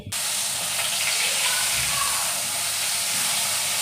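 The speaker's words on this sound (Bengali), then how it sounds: "বেগুনটা ভেজে নিই" Brinjal (eggplant) slices fry in hot oil with a loud, steady hiss and sizzle that runs unbroken from start to finish, close by and with no voices.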